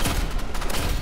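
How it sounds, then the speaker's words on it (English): Shotgun firing in Roblox Rivals: a brief, dense burst of booming blasts, loud and close, filling the whole second with no talking. "the fucking shotgun is crazy"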